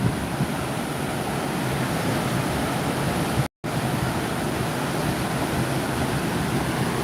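Water pours through a slightly opened dam gate at Island Park in Thompson Falls, Montana, a steady, dense roar of rushing flow with a brief dropout midway.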